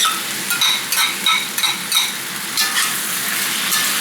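Sliced peppers and steak sizzle in a hot pan with soy sauce, with repeated scraping stirs and utensil clacks over a steady loud frying hiss.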